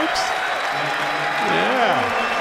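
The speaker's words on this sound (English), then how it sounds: "Dirk in the standing ovation from the Garden crowd, folks." Madison Square Garden crowd giving Dirk Nowitzki a standing ovation during a Mavericks–Knicks game, sustained applause and cheering beneath a broadcaster's commentary.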